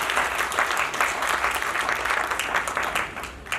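Audience clapping at a bhajan gathering at an Arya Samaj hall in Fazilka, a steady dense burst of many hands applauding together, loud and close throughout with no talk over it.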